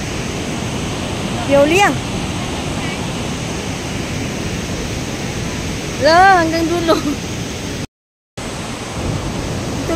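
Waterfall at Shenxian Valley in Miaoli, Taiwan, a loud, constant rushing roar of falling water close by, with people talking briefly over it and a bird chirping.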